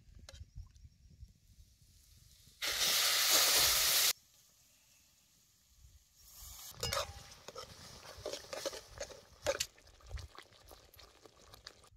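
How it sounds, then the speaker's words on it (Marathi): Bean-cooking water is poured into hot, oil-fried saoda paste, producing one loud, hissing sizzle burst of about a second and a half. Quieter clinks and scraping stirs follow in the pan. "आता या सौद्यात शेंगा शिजलेलंच पाणी घालायचं"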